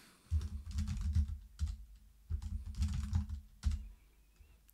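Someone types a password on a Steam Deck keyboard, producing close, soft clusters of key taps in short bursts separated by brief pauses.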